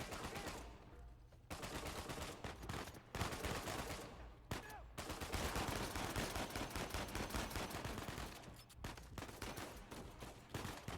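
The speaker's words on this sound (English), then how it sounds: "Blind cover fire is so good in this game. Just like shooting over the boxes without aiming." Sustained blind cover fire in the Uncharted 4 shooter game, dense rapid gunshots and machine-gun bursts rattling almost continuously, loud and close, with a few brief gaps between volleys.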